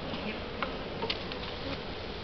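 Honeybees buzz around an open hive during an inspection, a dense, steady drone close to the ear with a few brief individual bees passing nearer.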